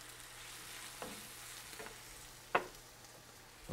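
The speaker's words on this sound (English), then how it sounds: "You want to saute that a little bit." Fresh bay leaf and cumin powder sauté in a soup pot, making a faint, quiet sizzle broken by a few soft clinks and one sharp utensil knock, with no talk.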